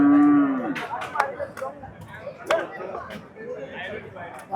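At an outdoor village cattle market selling sacrificial cows, a cow gives one loud, close, drawn-out moo, followed by busy crowd chatter and scattered knocks as people talk nearby.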